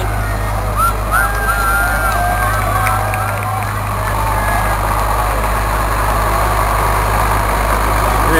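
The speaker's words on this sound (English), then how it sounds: "Here you go, that's an old tractor." An old tractor engine idles with a steady low chug, loud and close, under a bright whine and some background crowd noise at a Fourth of July event.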